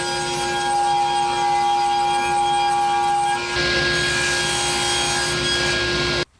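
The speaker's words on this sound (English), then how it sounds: "we're going to take the offcut of the plywood over to the table saw and cut ourselves a length" A table saw rips a length from a plywood offcut, a loud steady whine and rasp that shifts in tone midway through the cut, then stops abruptly as the blade clears the wood.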